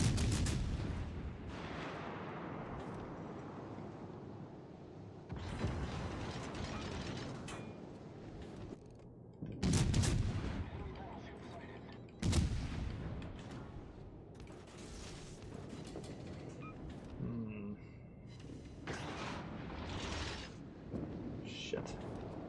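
Naval gunfire in World of Warships Legends: heavy booming shots break out in several loud bursts over a constant rumbling game backdrop, with mechanical creaks between them.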